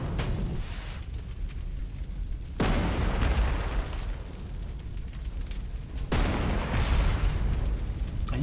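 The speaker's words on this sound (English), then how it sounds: "It's nice to watch enemy artillery completely and utterly ineffectually go after tanks" Artillery shells exploding around tanks in the World War II strategy game Panzer Corps 2, heavy rumbling booms that come in three loud waves, each ending abruptly, with no voices.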